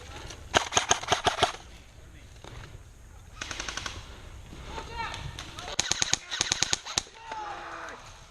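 Airsoft gun firing semi-automatic during an outdoor game: several quick clusters of sharp, snappy shots in rapid bursts, with distant gunfire from other players and brief voices in between.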